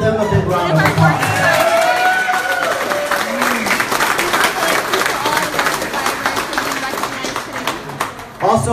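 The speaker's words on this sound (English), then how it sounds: "give them a big round of applause" Crowd applause at the opening of a new exhibit at the Guam Museum, steady sustained clapping from many hands filling the room, with a voice over a PA breaking in at the start.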